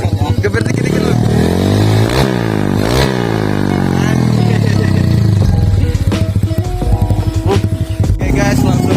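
A Honda Vario with a 180-200cc DOS racing exhaust revs in several short, loud blips close up, its pitch sweeping up and falling back between throttle bursts over a constant engine rumble.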